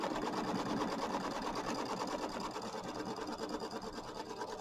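A sewing machine tacks fabric down for a mini quilt, its needle running in a fast, steady mechanical whir that stays close and unbroken, with a slight easing toward the end.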